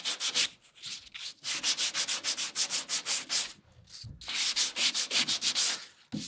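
Sandpaper rubs steadily along a wooden cap rail on a dory, a close, rhythmic series of quick back-and-forth hissing strokes with a short pause midway, heard alone.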